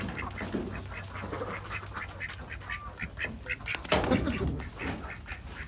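Domestic ducks quack repeatedly around a rural household, a busy stream of calls with a louder burst near the end, heard close against a constant low hum in the background.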